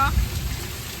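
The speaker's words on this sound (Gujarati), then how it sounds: "હજી તો વરસે હે ધીમે ધીમે" Rain pouring onto the ground and a water-filled yard, a dense, steady close hiss of drops with a low rumbling undertone.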